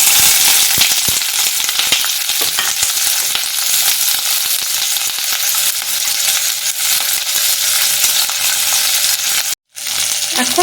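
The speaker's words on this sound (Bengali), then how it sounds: "এবার আমি এই তেলের মধ্যে পেঁয়াজ কুচিগুলো সব দিয়ে দিচ্ছি।" Chopped onions hitting hot oil, a loud, dense close sizzle that crackles continuously, briefly cutting out near the end before resuming.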